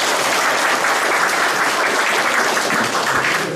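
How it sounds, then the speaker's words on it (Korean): Loud, dense applause from guests at the opening ceremony of a photography exhibition at a Seoul art space, continuous clapping sustained evenly throughout with no talk over it. "큰 박수 보내십시오."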